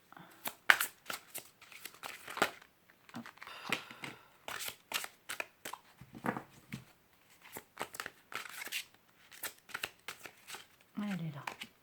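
Tarot cards being shuffled, handled and drawn at a full-moon Cancer reading: crisp papery flicks and slides in quick irregular bursts, close and moderately loud, with a voice heard briefly between them.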